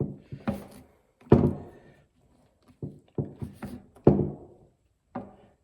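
Shotgun being loaded with slug and buckshot shells, a series of separate close thunks and clacks of shells pushed into the tube, spaced unevenly with short pauses between groups.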